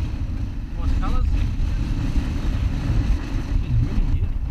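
Steady wind buffets the microphone outdoors on a fishing boat, a dense low rumble throughout, with faint voices briefly audible underneath.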